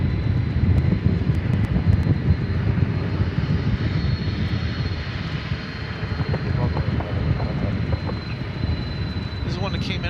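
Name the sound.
UPS Boeing 767 jet aircraft at DFW Airport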